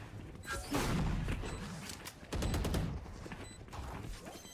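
Rifle fire from a competitive Valorant grand final match arrives in bursts of rapid shots, with two louder volleys separated by short gaps and crackling impacts in between, and no voices.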